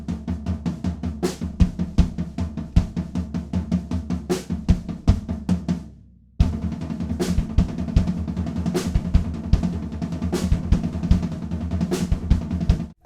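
A drum beat, led by the left hand on the floor tom before moving over to the snare, plays as a steady, busy groove with crisp cymbal hits, briefly stopping near the middle before resuming.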